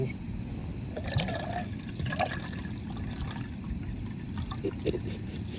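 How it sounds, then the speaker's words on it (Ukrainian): Water pours and trickles from a bottle opened outdoors on a nature walk, a close, faint liquid splashing and dribbling with small clicks, under light background noise. "Денька, відкривай водичку."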